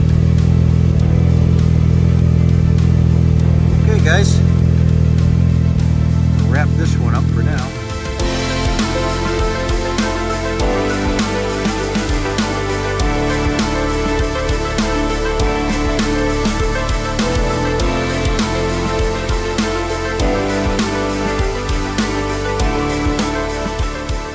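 A snowmobile engine revving and droning as the machine rides fast across a lake in Muskoka near sunset, loud and steady throughout, with a shift in tone partway through.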